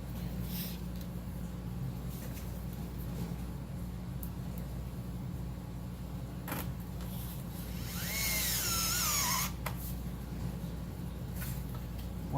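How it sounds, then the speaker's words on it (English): A power screwdriver or drill runs nearly nonstop, a steady close whirring hum as two screws are driven into a terminal strip on a model-building bench, rising once into a brief higher whine. "What I'm doing is running 2 screws into the terminal strip to hold it tight."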